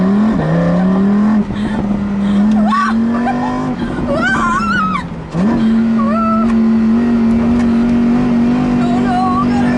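A Lamborghini Huracán LP610 engine roars at a steady high pitch on a track, dipping briefly around gear changes, while excited voices and shouts ring out over it.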